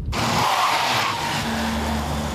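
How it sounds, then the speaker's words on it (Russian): A car braking hard on winter tyres at about 60 km/h skids with a loud, continuous tyre squeal and road roar, sustained for over two seconds with no talk. "Вы двигались со скоростью 60 км в час, тормозной путь составил примерно около 5 метров."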